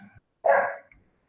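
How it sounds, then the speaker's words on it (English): A single short, sharp bark from a dog, fairly close and moderately loud, with a faint soft sound just before it and quiet after. "And that's the dog making an appearance."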